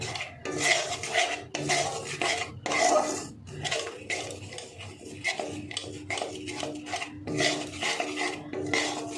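A spoon scrapes and stirs a homemade soy sauce mixture in a pan, giving rhythmic rubbing and clinking strokes close up, with no talking.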